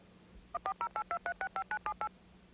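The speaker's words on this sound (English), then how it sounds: "And the phone automatically makes the call for me." A voice-activated telephone from around 1991 automatically dials a call, producing a quick run of about twelve crisp touch-tone beeps in steady succession, clear and close with no talking over them.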